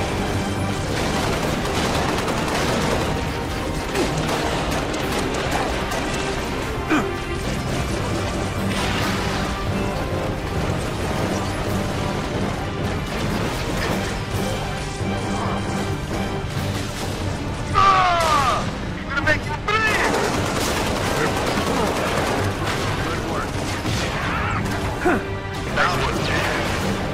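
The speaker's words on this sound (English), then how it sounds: "Heavy fire." Heavy gunfire and crashing impacts from a Halo Reach battle, continuous and loud throughout, with a sharp burst of clatter near the end, mixed under dense game sounds.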